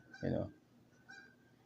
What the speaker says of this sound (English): I'm sure you can hear those loud ass birds